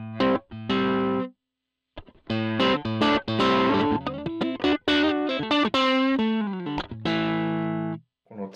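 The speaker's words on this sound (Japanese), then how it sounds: "でこれスープロだけだとこういう感じの音ですね。" Electric guitar played through a Supro amp model on a Line 6 HX Stomp XL rings out in loud, slightly driven chords and single notes, with a brief pause before a busier phrase that fades at the end.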